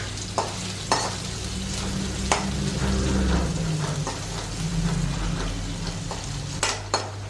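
Sliced onion, chilli and curry leaves sizzle and crackle steadily in hot oil in a pan, with occasional sharp pops and a few spoon scrapes as the mix is stirred.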